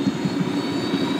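A helicopter in the video game Ghost Recon Wildlands drones with a steady low rotor throb and a whining engine tone, continuous and close with no voices.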